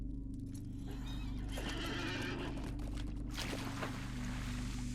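A horse is ridden in the Lord of the Rings Online video game, with steady clip-clop hoofbeats and a whinny over a constant low ambient drone. The hooves and neigh are fairly quiet and no one speaks.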